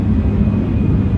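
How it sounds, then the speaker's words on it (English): An airplane flies overhead near an airport, heard as a loud, steady low rumble with a faint high whine that holds throughout, with no voices. "what you're hearing is an airplane."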